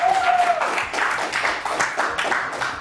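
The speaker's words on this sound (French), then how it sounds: "je vous demande d'applaudir très très fort" Applause from a live audience at a French comedy news show, a steady wash of clapping throughout with a brief tonal note at the start.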